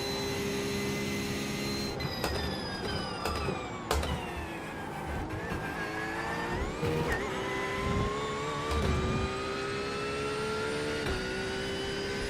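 A Porsche race car in iRacing laps Monza, its engine droning loud and steady with rising and falling pitch through upshifts and downshifts, punctuated by sharp clunks over curbs, with no talking.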